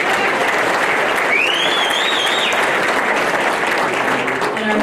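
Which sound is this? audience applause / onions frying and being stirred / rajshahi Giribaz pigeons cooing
audience applause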